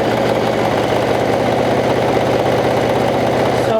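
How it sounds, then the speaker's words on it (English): A sewing machine stitches the hem of a vintage jumper with a loud, continuous whirring drone, steady and close, with no voices. "we're finishing the jumpers by sewing the hem, as I was saying, what I'm doing right now"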